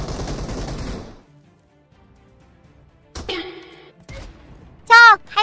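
Gunfire and a grenade launcher blast in a first-person shooter game, with a loud burst at the start, a pause, then sharp shots and a final loud report, alone without talk.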